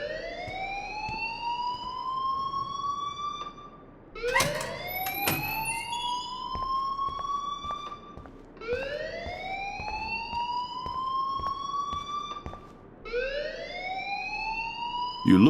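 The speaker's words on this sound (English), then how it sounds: "please turn off that alarm since that's your job" Alarm in Life Is Strange: Before the Storm, wailing in repeated rising sweeps about every four seconds, steady and moderately loud with faint background clicks.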